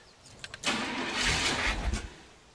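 A car's starter cranks the engine in one rough burst lasting about a second and a half, fairly faint and close, then cuts off without settling into an idle.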